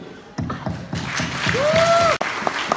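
Applause from a crowd at a Final Fantasy fan event, steady clapping that builds and holds for a few seconds before cutting off, with a faint squeak rising over it.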